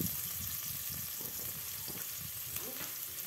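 Onion browning in a pan, a dense, steady sizzle heard close up with faint stirring movements and no voices.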